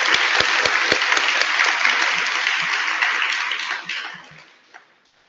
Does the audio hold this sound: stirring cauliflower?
no